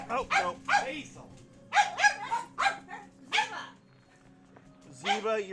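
A dog barks in repeated sharp, loud, close bursts with short gaps, some sounding yippy and whiny, and a person's voice is heard among the barks.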